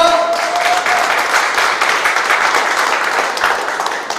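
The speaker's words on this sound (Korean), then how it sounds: "여러분 큰 박수 부탁드리겠습니다" Sustained, dense applause fills a hall as a crowd welcomes guests at a traditional wood-carving exhibition opening, steady and loud throughout with no talk over it.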